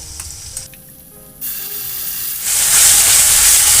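Ginger and onion paste added to a hot frying pan for a Bengali posto bora jhal, giving a sudden loud, close sizzle that swells into a continuous bright hiss.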